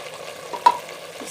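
Beef biryani masala being fried and stirred in a pot, a soft sizzle under a quick scrape of the spoon, close and fairly quiet with no talking.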